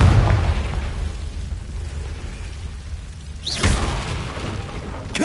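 A Confringo fire spell explodes in Hogwarts Legacy, a deep booming burst at the start, then a sharp crackling blast midway, with rumbling game ambience between and no voices.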